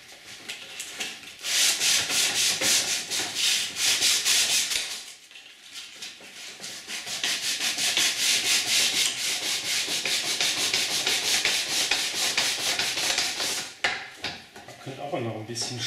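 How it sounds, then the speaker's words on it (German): Piano keys rubbed down by hand with sandpaper during key covering renewal, a loud continuous scratchy sanding with a short pause midway and faint handling noises at the end. "sodass wir hier schön schleifen können. Dazu benötigen wir Schleifpapier."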